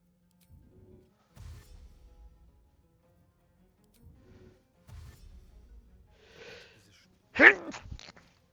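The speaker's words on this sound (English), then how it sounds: "Pardon me for that sneeze." A single sharp, loud sneeze bursts out close by after several quiet stretches of low, muffled sounds.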